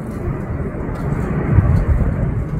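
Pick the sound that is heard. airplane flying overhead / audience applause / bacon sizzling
airplane flying overhead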